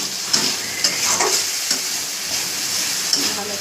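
A masala of turmeric powder, tomato and salt fries in a pan, giving a loud, steady sizzle broken by regular stirring knocks and scrapes, without speech.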